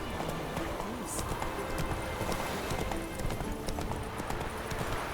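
Hooves of Geralt's horse Roach in The Witcher 3 clip-clop in a steady trotting rhythm, moderately close, beneath voices talking nearby.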